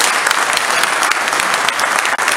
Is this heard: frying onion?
no